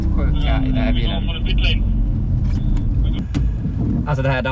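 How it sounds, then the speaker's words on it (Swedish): A Porsche sports car accelerates hard on a track, its engine loud and close with a rising tone, while people talk over it throughout. "De här accelerationerna är helt sjuka i den här bilen."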